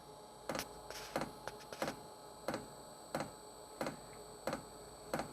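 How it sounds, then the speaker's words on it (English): A jet heater's fuel pump primes with sharp, evenly spaced clicks, about eight in a few seconds, over a steady low hum of the running fan blowing cold air, with no one talking. "That click, click, click is the fuel pump priming."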